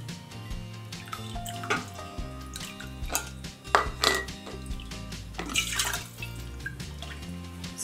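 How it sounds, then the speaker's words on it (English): Glass jars being washed by hand with hot water and soap in a kitchen sink, with running water, splashing and repeated clinks of glass against glass and the basin over several seconds. "I just did a quick hot water and some soap to clean the jars out."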